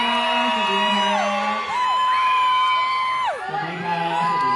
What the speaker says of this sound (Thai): ขอเสียงกรี๊ดและปรบมือดังๆให้กับคุณปี ๊ด